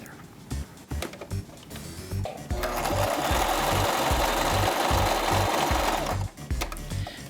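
A sewing machine runs on a puppet seam: a few short stitching bursts, then a sustained rapid rhythmic whirring for several seconds that stops abruptly, close by with a voice talking in the pauses.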